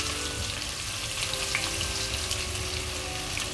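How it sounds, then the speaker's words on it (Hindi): Onions with a bay leaf fry in well-heated oil over a medium flame for a keema arbi dish, a steady close sizzle with light crackling and popping, no talking. "इसके साथ ही हम डाल देंगे अपनी प्याज जो हमने काटी है मीडियम साइज़ की। तेल हमारा अच्छा गर्म है"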